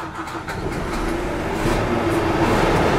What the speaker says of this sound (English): Does the engine sound any different? Let's start it up and we'll give it a look.